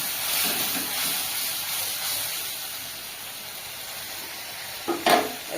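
A splash of water hits chili powder frying in hot oil, a loud close hiss and sizzle that fades slowly, then a sharp burst of spatter and steam near the end, with no speech.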